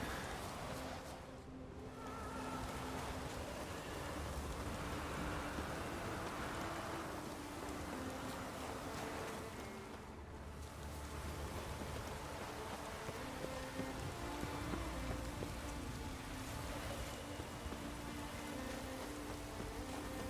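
Steady rain falls in The Witcher 3, a broad, even hiss of drops at moderate level that holds through the whole stretch, with faint rumbling underneath and no talking.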